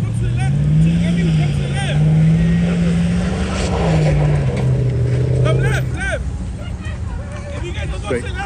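A loud truck engine drones and rises in pitch close by while driving off-road, with excited voices talking over it throughout.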